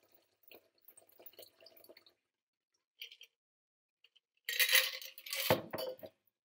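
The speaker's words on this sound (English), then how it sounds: "pour out your freshly made drink" A gin gimlet is poured through a strainer into a chilled glass, a soft close liquid splash after a few faint clinks and taps, quiet overall.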